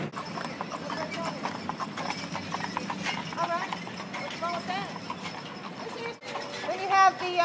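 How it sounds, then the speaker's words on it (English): Carriage horse hooves clip-clop in a steady rhythm on downtown Nashville streets during a horse-drawn tour, with people talking throughout. "I am doing horse-drawn carriage tours of downtown Nashville."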